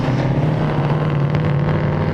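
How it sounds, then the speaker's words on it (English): Classic Australian muscle car engines on the Aussie Muscle Car Run at the Victoria Park racetrack give a loud, continuous low drone that holds steady throughout, with faint wind noise and no talk. "Start your engines because the Aussie Muscle Car Run has roared into town."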